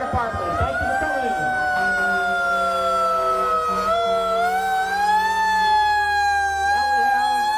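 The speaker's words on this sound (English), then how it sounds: "Next we have engine number 1 from the Glasgow Fire Department." A fire engine siren wails loudly and continuously during a Santa parade in Massachusetts, its pitch slowly rising and falling as the engine passes close by.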